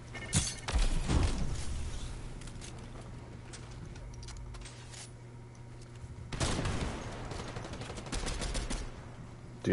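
Video-game gunfire comes in bursts, a loud cluster of shots early on, then a quieter stretch, then another dense volley later, with no speech over it.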